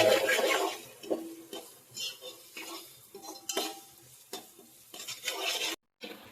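Spoon stirring cumin, mustard seeds, chopped onion and curry leaves in a pan for misal, with soft scraping strokes and a light sizzle; the strokes come in short, irregular bursts, close by, with no talking.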